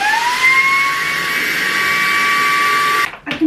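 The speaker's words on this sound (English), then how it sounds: "I can hear air escaping, but I can't work out where from" A steady, high-pitched airy hiss with a faint whistling tone, air escaping from a torn vacuum storage bag, runs continuously for about three seconds, then cuts off abruptly, followed by a few soft rustles.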